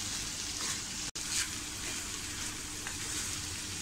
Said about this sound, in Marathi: आणि आपल्याला ही भुर्जी अगदी सुटसुटीत होईपर्यंत अशी सतत ढवळत राहायची आहे.